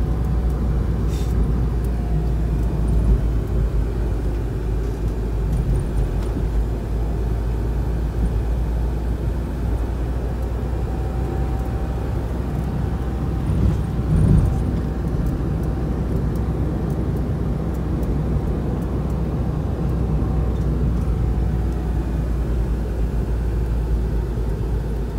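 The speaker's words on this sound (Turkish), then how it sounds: "Aksaray terminali, otobüs terminali Aksaray Şehirler Arası diyor." Steady low traffic rumble at Aksaray intercity bus terminal, engines droning continuously with a brief louder swell midway, no talk.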